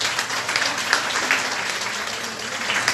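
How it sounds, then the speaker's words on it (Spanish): Audience at an international neonatology conference session on therapeutic hypothermia applauds, a dense, steady burst of clapping filling the hall for a few seconds with no one speaking over it. "Un aplauso, por favor."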